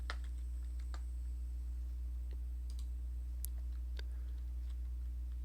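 Someone types code on a computer keyboard in quick, light, irregular clicks. The keystrokes are faint and close, over a steady low hum, with no talking.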